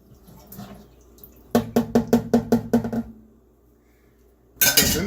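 A spoon stirs blueberry wine must in a container, a quick run of about eight rhythmic clinking knocks against the sides, close and clear, followed by quiet and a final scrape.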